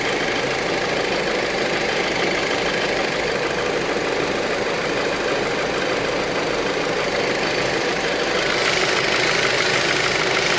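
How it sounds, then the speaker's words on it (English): A 2006 Audi A4 engine idling with a steady, even hum and a faint ticking rhythm, close and constant with no revving. "Engine running."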